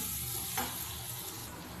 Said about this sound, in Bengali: এর মধ্যে দিয়ে দেবো আমি নুন হলুদ লঙ্কার গুঁড়ো আর সামান্য একটু চিনি এইগুলো দিয়ে তারপরে আমি কষিয়ে নেবো